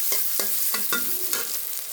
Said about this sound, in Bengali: এখন পেঁয়াজ কাঁচামরিচ দিয়ে দিলাম এই মাছ ভাজির তেলের মধ্যে